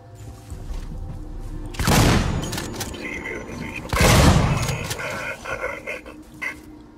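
Gunfire in the survival horror game Alien Isolation: two heavy, booming shots a couple of seconds apart ring out over a dense, rumbling ambient background.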